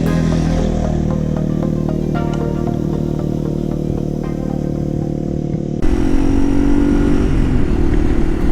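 A 2021 Yamaha TW200 motorcycle with a fat rear tire, ridden with a loud, steady single-cylinder engine drone that shifts in tone partway through as it changes speed; no talking.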